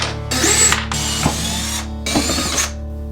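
Screws being undone beneath a cabinet in a 1970s home's guest bathroom, with three bursts of whirring power-driver noise separated by short pauses, loud and close, each burst trailing into ratcheting clicks.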